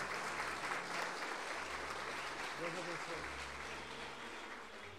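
A church congregation applauds steadily at a healing service, broad clapping filling the space while a voice speaks briefly over it, fading slightly toward the end.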